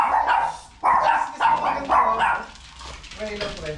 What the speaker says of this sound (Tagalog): Bakit yung aso na yan?